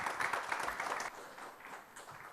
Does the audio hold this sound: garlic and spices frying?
no